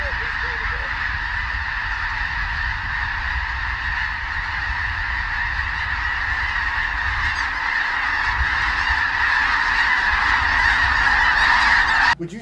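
Dense flock of snow geese honking continuously and loudly throughout a hunt, a thick steady chorus of overlapping calls that swells slightly toward the end before cutting off.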